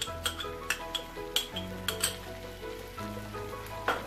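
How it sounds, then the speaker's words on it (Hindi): A metal spoon stirs semolina halwa roasting in ghee, clinking and scraping against the pan again and again in an uneven rhythm over a faint sizzle, with no talking. "इसको चमचा चलाते हुए हमने भूनना है"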